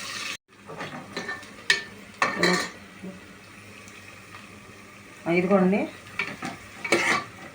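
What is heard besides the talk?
onions frying and being stirred in pan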